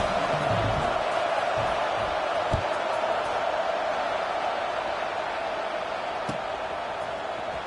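Broad, steady roar of a football stadium crowd at an SMU versus Houston game, a dense continuous wash of many voices holding level through the stretch with a few faint thumps beneath.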